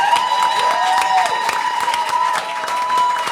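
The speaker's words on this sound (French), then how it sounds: "Mona, Loxy, on peut les applaudir chaleureusement" Crowd at a live show applauding and cheering, loud dense clapping with a sustained tone and scattered shouts, continuous throughout.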